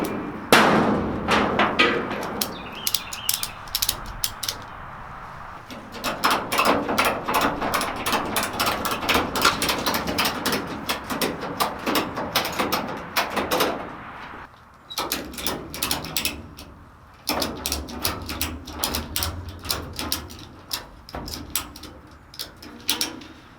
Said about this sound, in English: I'm gonna use these ratchet straps to bend the steel over to get my curve.